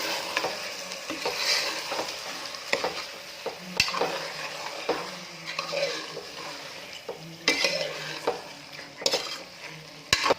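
A spoon stirs chicken and masala frying in a pressure cooker for biryani, with steady sizzling and scraping and occasional metallic clinks against the pot, no voices.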